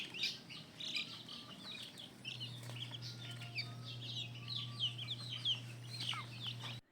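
Chicks in a brooder screen pen chirp and peep in a busy, continuous chorus of high calls with occasional clucks, while a steady low hum runs underneath.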